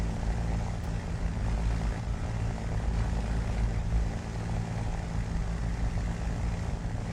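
A P-40 fighter plane's propeller engine drones steadily in a World War II flight video game, a loud, continuous low rumbling throb from the cockpit with no break and no talk.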